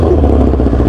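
A large motorcycle fitted with a tin-can exhaust revs in a short, loud, rough burst with a rattling clatter running through the engine note.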